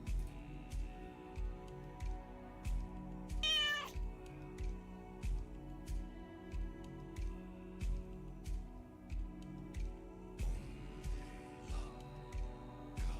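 A cat meows once, a brief bright call near the start, amid a steady run of soft rhythmic clicks and taps with low background hum.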